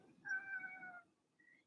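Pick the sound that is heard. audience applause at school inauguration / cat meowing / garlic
cat meowing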